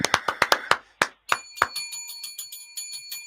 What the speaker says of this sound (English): is that a bell coming in?